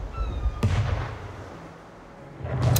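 Cannon fire hits a ship during a naval battle in the PC strategy game Anno 1800, two sharp booming blasts about two seconds apart over a rumbling background of battle noise.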